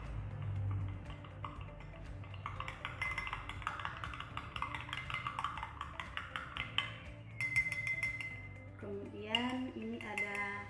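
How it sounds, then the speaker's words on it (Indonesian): A spoon clinks and scrapes rhythmically against a glass while stirring a flour mixture, bright and close, with a voice talking near the end. "tepung, kita mengaduk hingga rata."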